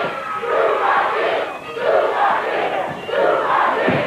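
A wrestling arena crowd roars and chants in loud rhythmic waves, surging and dipping several times as the audience shouts in unison, close and full.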